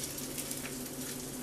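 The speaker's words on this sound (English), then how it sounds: "I'm hoping you can hear that little sizzle there in the pan." Faint, steady sizzling from lobster cakes pan-frying in a frying pan, a soft continuous crackle with no speech.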